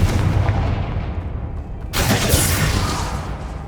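A Confringo blasting spell going off in Hogwarts Legacy inside a tomb, a loud booming explosion with a sharp crackling burst about halfway through, set over a dense, rumbling background roar.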